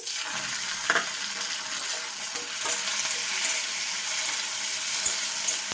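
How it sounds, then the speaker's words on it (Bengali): Tomatoes dropped into hot oil in a frying pan and stirred, a loud continuous sizzle with scraping and stirring noises and no talking. "এবার আমি দিয়ে দিচ্ছি টমেটো।"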